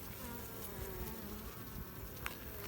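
Honeybees buzzing steadily around an open hive during an inspection, a dense continuous drone at moderate volume with a few individual bees passing closer.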